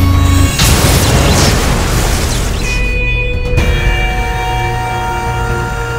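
A loud missile explosion from a superhero story bursts in with a deep boom, then rumbles and decays into a sustained roar with a ringing tone over the following seconds.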